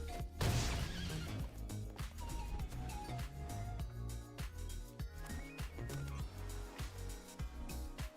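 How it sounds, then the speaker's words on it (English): A horse pet whinnies in a video game near the start over busy game music with rhythmic thumps, followed by faint hoof clip-clops in the mix. "Horse, stop neighing."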